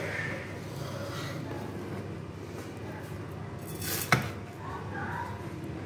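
A two-year-old spoons dry coral lentils from one container to another, giving soft, scattered grain rustles and one sharp clink near the end over a steady indoor background.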